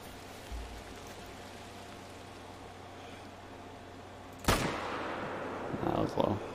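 A single loud, sharp hunting rifle shot in theHunter: Call of the Wild, dropping a moose, followed by a long fading rumble and faint rustles under quiet game ambience.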